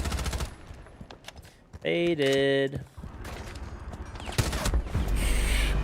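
Rapid bursts of automatic gunfire in Rainbow Six Siege, loud and close in several volleys, with in-game tonal cues and a streamer talking briefly between shots.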